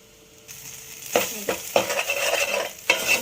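Garlic and chili powder fry in hot oil for a ridge gourd sambar. A quiet start gives way to a lively sizzle, with several sharp spoon-against-pan stirring knocks close by.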